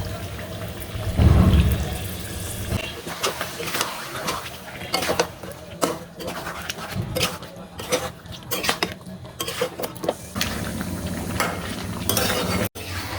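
Chicken with spices being stirred in a pan for biryani, heard as loud, close scraping and clinking of a spoon against the metal pan with a steady frying rustle throughout.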